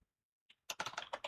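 Quick burst of clicky keystrokes on a computer keyboard, preceded by a single faint tap, close and fairly quiet, with no talking.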